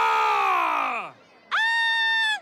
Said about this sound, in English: Boy band scream?